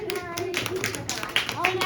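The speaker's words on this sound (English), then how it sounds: "Let's clap for our friends." Second-grade children clap in a classroom, a scattered, uneven patter of small hands under a teacher's voice and chatter, with a couple of sharper claps near the end.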